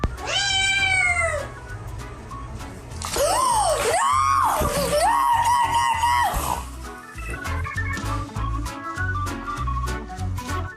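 A cat meows loudly and close up, giving three drawn-out, rising-and-falling calls in the first half, followed by a steady murmur of quieter background sound.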